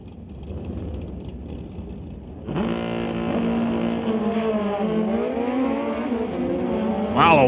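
A 2007 Kawasaki drag race motorcycle launches hard at an NHRA Summit ET race, a loud engine note leaping up and climbing steadily through the revs over a steady background rumble.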